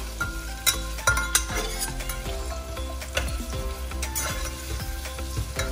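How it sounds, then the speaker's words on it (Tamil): Onions and green chillies sauté in a pan, a close crackling sizzle punctuated by frequent sharp scrapes and clinks of a spatula against the metal, no talking. "இந்த வெங்காயம் பச்சை மிளகாய் வந்து நல்லா வந்து வதங்கி வந்துடட்டும்"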